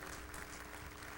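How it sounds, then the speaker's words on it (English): Applause at a 2001 Boston College graduation ceremony honoring a speaker, a faint, distant, even wash of clapping heard through a hall sound system. "give him a big round of applause"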